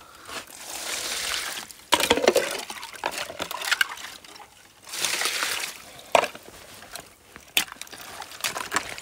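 Vegetables being rinsed outdoors in icy cold water that has started to freeze, with bursts of splashing and trickling in uneven pulses, close by, no speech.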